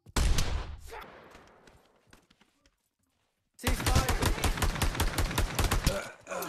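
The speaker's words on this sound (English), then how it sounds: "I heard your gun" Bursts of automatic gunfire in the VR shooter Pavlov, a loud rapid volley that fades into quiet, then a second sustained close burst of shots after a pause.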